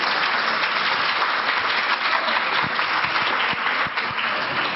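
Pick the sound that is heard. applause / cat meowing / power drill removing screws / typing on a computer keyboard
applause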